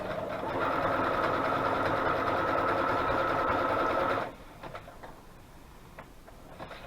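A sewing machine stitches through paper journaling cards in a steady, close whirring run for about four seconds, then stops, leaving faint ticks and handling noises.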